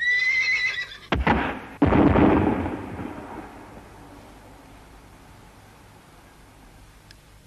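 A horse whinnies loudly at the start, followed by two sharp heavy thuds and a fading rumble that leaves near silence.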